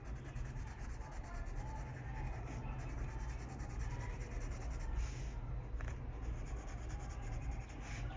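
A Derwent Inktense pencil is scratched steadily across paper while coloring, a continuous close, soft rubbing texture with no talking.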